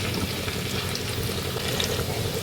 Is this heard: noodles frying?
yes